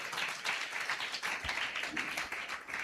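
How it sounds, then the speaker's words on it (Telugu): Audience applause at a Christian community gathering, a dense steady wash of many hands clapping together, moderately loud and continuous throughout with no pauses. "చప్పట్లు కొట్టండి"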